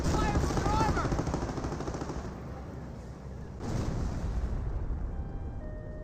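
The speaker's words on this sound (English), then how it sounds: "Calliope Rocket Barrage running a little bit farther down there" Calliope rocket barrage explosions in Company of Heroes, a World War II strategy game: a dense, rumbling string of blasts and crackling bursts that fades slightly, then surges again partway through.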